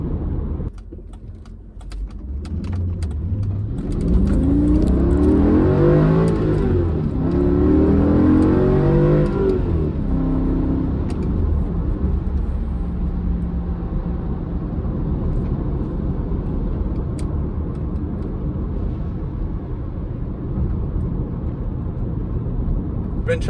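Mercedes C55 AMG with a manual swap cruising at around 40 mph, engine droning and rising under acceleration before settling into a steady low hum with road noise from inside the cabin.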